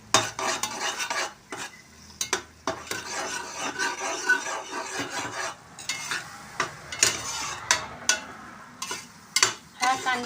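Ginger garlic paste is stirred into onions and tomatoes frying in a pan, with a steady sizzle and repeated scraping strokes of a spoon against the metal, close and fairly loud with short pauses between strokes.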